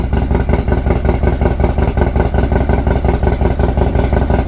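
A Harley-Davidson Dyna motorcycle with a 2-into-1 exhaust idles steadily at close range while warming up in about 40°F cold, a rapid, even low-pitched chug with a lumpy pulse and no voices.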